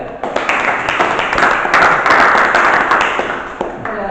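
An audience applauds a correct answer about normal car battery voltage, a dense sustained burst of clapping at close range that swells through the middle and tapers off near the end.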